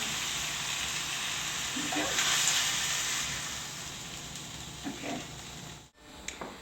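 Pork tenderloin set into a pan drizzled with olive oil, giving a steady, moderately loud sizzle and hiss of searing meat, with small clatters from the pan near the end.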